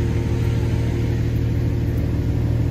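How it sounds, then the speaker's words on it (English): A Nissan 370Z VQ engine running on aftermarket fuel injectors sits at a steady, smooth idle, a constant low hum with an even pulse heard close up and on its own, with no voices. "Idling nice and smooth on the first revision."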